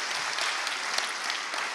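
A short burst of steady audience applause, an even, dense clatter of many hands heard fairly close for under two seconds.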